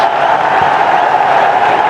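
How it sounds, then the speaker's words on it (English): Big crowd at a Bangladesh vs Pakistan T20 cricket match roaring steadily after a batter reaches his fifty, a dense sustained cheer filling the whole stretch. "The crowds are on their feet. They've absolutely loved it."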